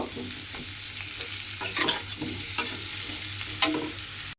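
A pumpkin and potato curry is stirred in a frying pan. A spatula scrapes and knocks the pan several times over a low steady sizzle, close and clear with no voices.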